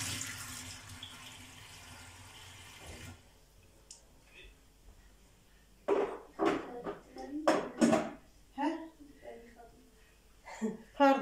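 Dishes clatter and clink as they are handled and put away in a kitchen, in sharp irregular bursts after a stretch of running water, with a person speaking now and then.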